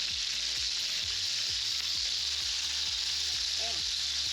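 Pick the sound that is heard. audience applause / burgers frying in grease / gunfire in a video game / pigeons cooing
burgers frying in grease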